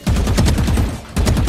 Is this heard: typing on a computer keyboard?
no